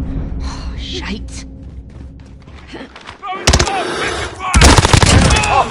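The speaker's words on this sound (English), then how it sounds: "I'm taking fire." Bursts of automatic gunfire crackle through a Call of Duty Modern Warfare match, loud and sharp near the end, with a player's voice heard over the shooting.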